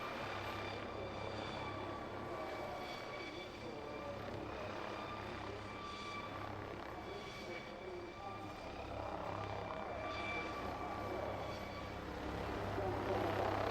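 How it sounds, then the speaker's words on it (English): Police helicopter with a NOTAR system hovering and turning at an air display at Shoreham in 1999, a steady loud engine whine and rotor roar throughout, with someone commentating over it. "this new NOTAR arrangement gives superb control in the hover."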